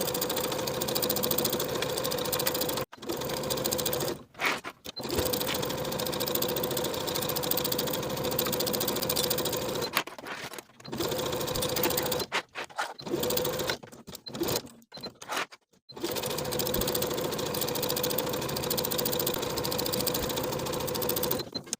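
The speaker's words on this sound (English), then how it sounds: "we'll sew from the top, maintaining a 3/8 inch seam allowance around the pocket and down to the bottom of the hem." Sewing machine running along a 3/8 inch seam on a knit funnel-neck dress, loud and close, long continuous whirring runs broken by several brief stops and restarts.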